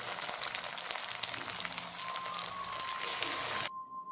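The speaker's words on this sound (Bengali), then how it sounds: "তো ফ্রাই করবো একটুকু লাল করে" Chicken chhati fries in oil with spices, ginger and garlic, giving a close, steady crackling sizzle that cuts off abruptly near the end.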